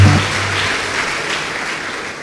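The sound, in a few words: church congregation applause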